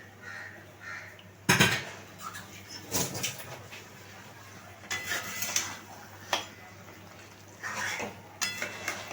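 Mutton curry is stirred in a cooking pot over a low flame, giving a few scattered scraping and clinking sounds of a utensil against the metal over a quiet background, with no talk.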